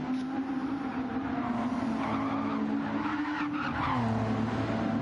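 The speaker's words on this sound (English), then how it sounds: "Huge snap of oversteer as well on the pit exit" A race car in a racing video game skids with a sustained tyre squeal during a sharp oversteer snap at pit exit, loud and continuous over the engine note.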